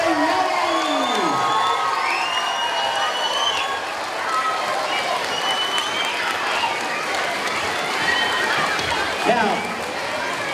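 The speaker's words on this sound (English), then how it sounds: "Can we have a huge round of applause for the 5th grade and the Summer of the Yeti?" Applause and cheering from a school audience after a 5th grade performance of Summer of the Yeti, steady crowd clapping with children's whoops and shouts throughout, a voice speaking briefly at the start.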